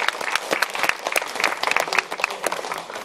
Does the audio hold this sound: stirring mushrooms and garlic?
no